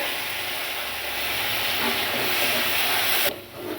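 Chopped onion dropped into hot oil with cumin and dried red chillies, giving a loud, steady hiss of frying that drops off sharply near the end.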